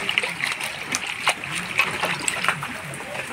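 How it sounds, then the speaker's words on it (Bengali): Ridge gourd leaves are washed by hand in water, giving repeated close splashes and drips in an uneven rhythm. "ধুন্দুলের পাতাগুলো ভালো করে ধুয়ে নিব আমি"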